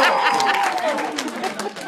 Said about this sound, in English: Come on, cheer for him, folks.